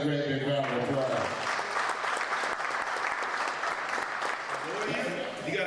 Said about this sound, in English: Please give your name another great big round of applause.